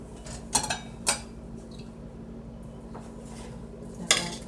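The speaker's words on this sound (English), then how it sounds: "I'm going to continue to stir" A spoon scraping and clinking against a pot while popcorn is stirred to coat it in candy syrup, a few sharp metallic knocks spaced over a steady low kitchen hum.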